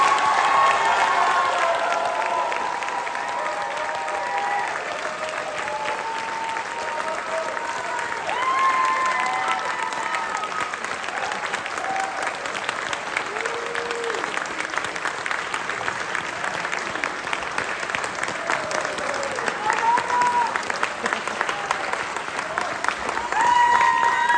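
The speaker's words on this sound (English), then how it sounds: "please give a huge round of applause for the class of 2025" Sustained, loud applause and cheering from a large audience at a high school spring concert band performance fill the hall without a break, a dense wash of clapping with some scattered shouts.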